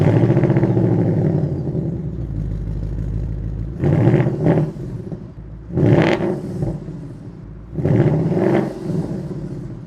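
Ford Mustang Dark Horse 5-liter V8 starting up in track mode, settling into a deep rumbling idle, then three sharp throttle blips that rise and fall back to idle, loud and close with no talking.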